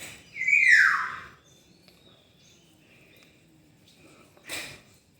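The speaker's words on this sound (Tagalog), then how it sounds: "May mga bisita pala akong rito. Ibon." A single bird call rings out outdoors, a bright rising chirp near the start, followed by quiet and a brief second chirp toward the end.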